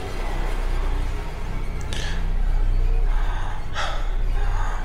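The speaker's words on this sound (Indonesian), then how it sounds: "Aku pun terengah-engah dalam keheningan itu" Heavy panting breaths in an audio drama, a few short, harsh bursts of air over a low, steady background hum.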